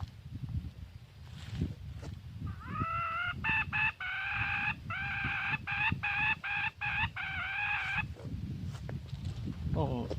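A rooster crowing close by on a rural Thai garden plot, one long drawn-out call broken into several sharp pulses, with someone talking before and after it.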